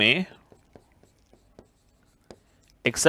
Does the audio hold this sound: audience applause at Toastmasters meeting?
no